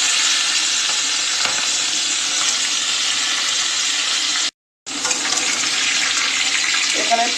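Green chillies tossed into a hot frying pan for a dried fish dish with jackfruit seeds, potato and raw pumpkin, giving a loud continuous sizzle that drops out briefly mid-way, then resumes with a scrape near the end.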